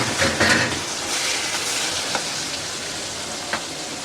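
Hilsa fish fries in a pan of hot oil with a steady, close sizzling hiss. Occasional sharper crackles and spatters cut through it.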